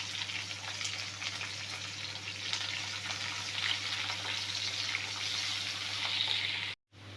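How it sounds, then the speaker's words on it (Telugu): Chopped onion and curry leaves frying in hot oil, with a steady close sizzle and crackle throughout, a low hum underneath, and a sudden brief cut near the end. "ఎర్రగడ్డ బాగా వేగాల, మంచిగా కలర్ వచ్చినప్పుడు మనం అల్లం పేస్ట్ వేస్తే బాగుంటుంది."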